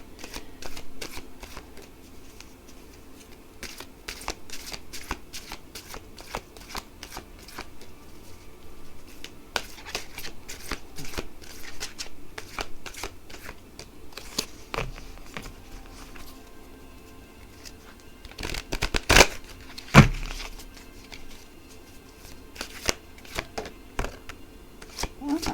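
Cards are shuffled over and over during a card reading, giving soft, quick riffling and flicking clicks at a quiet close range, with a louder burst of shuffling near the end.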